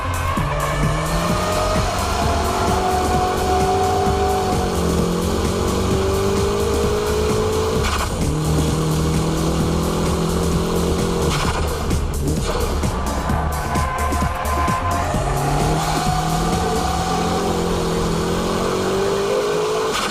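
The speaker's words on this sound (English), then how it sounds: "With the high-speed drifting, traction recovery is very quick, even during the counter-steering work." A car drifting at high speed with counter-steering and quick traction recovery: a loud, continuous engine roar that rises and falls in pitch through the corners, mixed with tire noise, close and unbroken for the whole stretch.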